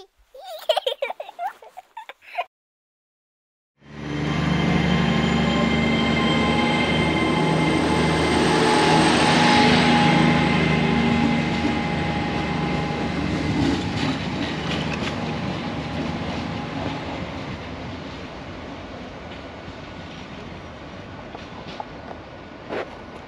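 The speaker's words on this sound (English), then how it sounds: "We're on a train." Steady rumble and rattle from inside a moving passenger train, loud and continuous, with wheel noise that rises and then slowly eases; brief sounds are heard before the ride noise starts.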